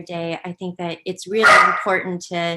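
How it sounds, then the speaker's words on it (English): A dog barks loudly in a burst of several sharp, close yelps partway through, overlapping someone speaking steadily during an online city council meeting. "excuse my dog"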